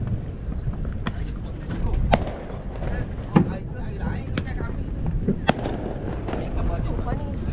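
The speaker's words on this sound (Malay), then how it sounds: "Siap main bunga api lagi" Fireworks go off over a river mouth where boats gather for iftar, sounding as several sharp distant bangs and pops over a steady engine and water rumble, with people talking throughout.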